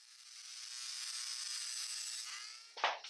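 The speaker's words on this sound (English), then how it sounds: "A cutting disc is used to trim the ends of the screws." High, whining cutting disc grinding through the ends of metal screws, one sustained cut that falls in pitch as it finishes, followed by a short clatter.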